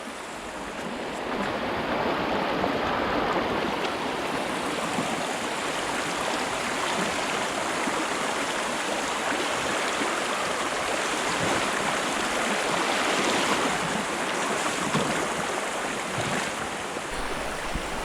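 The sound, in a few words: river water flowing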